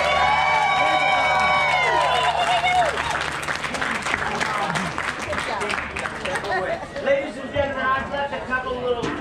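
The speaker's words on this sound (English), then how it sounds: "Let's give them a big round of applause." Audience applause and cheering at an outdoor medieval fair, steady clapping mixed with crowd hubbub and lively voices, loud and close throughout, with harmonic sounds from a singing or playing voice over the first seconds.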